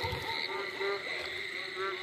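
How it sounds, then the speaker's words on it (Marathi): Many frogs croak together at one spot during the first rains of the rainy season, a dense, continuous chorus of overlapping trilling calls, close and steady throughout. "मस्त किती बेडूक एका जागेवर जमलेले पार्टी करू"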